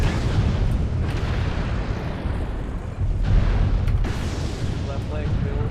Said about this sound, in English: Not the best missile shots since they are dumbfire missiles.